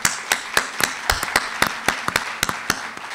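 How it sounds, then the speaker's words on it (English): A sparse round of applause for the marketing and IT teams at a college spring symposium, a small number of distinct, sharp claps in an uneven rhythm, close by and unaccompanied by talk. "Let's give them a round of applause, even if you were not there."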